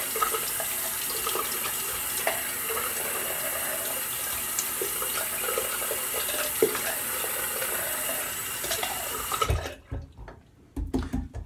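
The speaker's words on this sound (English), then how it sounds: "rinse off and go for number two." Water tap running steadily into a sink to rinse a razor blade in a 1920s-style barbershop, a close, continuous gushing stream that cuts off near the end, followed by a few clattering handling sounds.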